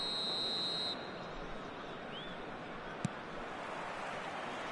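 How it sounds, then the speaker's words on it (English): A referee's whistle sounds once, shrill and steady for about a second, over a continuous roar of stadium crowd noise in an eFootball 2024 match on PS4 as the second half kicks off. "There's the whistle then to start the second half."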